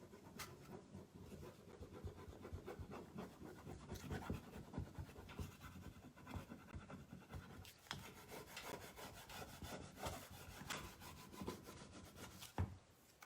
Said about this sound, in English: I'm just going to burnish it down using the tool that Essential Stencil provides